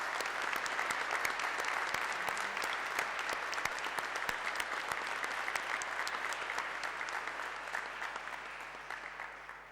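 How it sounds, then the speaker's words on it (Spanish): A congregation at Catholic Mass in church gives sustained welcoming applause, a dense steady wash of many hands clapping at even loudness with scattered sharper claps throughout. "los recibimos cordialmente con un aplauso de bienvenida."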